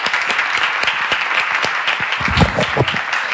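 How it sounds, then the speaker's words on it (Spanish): Audience at a Spanish talk on women in Jules Verne's work breaks into sustained, fairly loud applause, a dense wash of many hands clapping without a break. "Un aplauso para ella."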